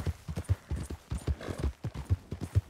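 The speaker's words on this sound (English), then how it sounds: "my horse is getting faster now, I believe." Horse hooves gallop in Red Dead Redemption 2, a steady rapid clip-clop of pounding beats running throughout, close and fairly loud with no talk over them.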